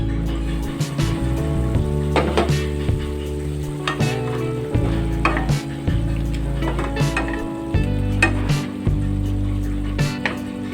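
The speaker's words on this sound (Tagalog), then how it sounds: "nilagay naman natin tong ating pork belly. Hayaan lang natin to magmantika dito sa ating kawali." Pork belly renders and fries in a pan, a close, steady sizzle with frequent crackles and spattering pops, while a low tonal hum runs beneath throughout.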